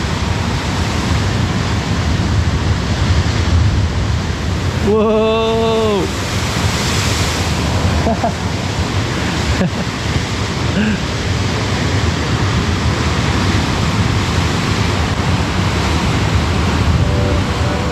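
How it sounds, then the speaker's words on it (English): Huge waves crash against rocks on the Algarve coast of Portugal, a loud, steady roar of surf and spray with wind buffeting the microphone throughout, while a man briefly exclaims partway through. "Huge waves bashing against these rocks."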